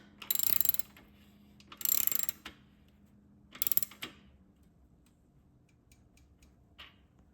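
Three quick bursts of ratchet-wrench clicking tighten a bicycle rear axle nut with a 15/16 socket, each burst about a second long with pauses between, close and fairly loud, followed by a faint click near the end.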